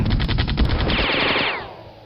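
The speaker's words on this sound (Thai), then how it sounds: "โอเค ยิง" Gunfire in the strategy game World Conqueror 4: a loud burst of rapid machine-gun shots that blends into a rolling, fading rumble, alone with no talk.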